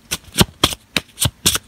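Tarot cards shuffled in six crisp riffling bursts at an even pace, close and fairly loud, with no voices.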